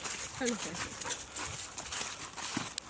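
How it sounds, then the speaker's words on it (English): Dogs bark and whine at a roadside where an MG TF has broken down, brief yelps scattered among outdoor noise while a person talks nearby. "Lots of doggies."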